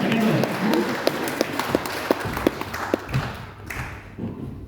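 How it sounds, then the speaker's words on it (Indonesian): Church congregation clapping for a woman during a sermon, a few distinct claps ringing out over a murmuring room and voices. "Bisa tepuk tangan buat ibu ini duanya."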